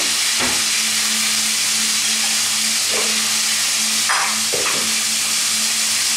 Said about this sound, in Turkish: Şöyle ciğerimizi şöyle sıkı sıkı olasıya kadar kavurmamız gerekiyor.